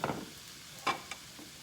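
Noodles tossed into a pan with cooked scrambled egg for vegetarian pad thai, giving a faint sizzle with a few quick scraping stirs and clacks close by.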